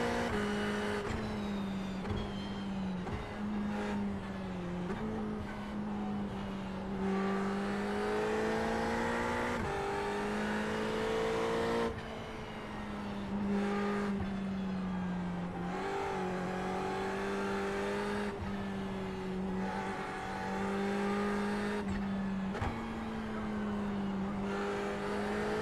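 A Ferrari race car in iRacing at Suzuka, its engine droning steadily close up, rising and falling in pitch through gear changes and corners for the whole stretch, with no talk over it.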